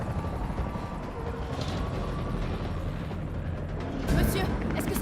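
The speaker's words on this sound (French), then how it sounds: "L'hélicoptère va vous conduire en lieu sûr." Helicopter in an action film scene near a parking garage rooftop, a dense, loud, continuous rotor and engine roar with mechanical rattling, briefly swelling near the end, with voices mixed under the noise.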